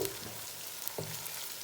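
Fresh raw turmeric and garlic fry in a pan with a steady, close sizzle and a brief stirring scrape partway through, no voices.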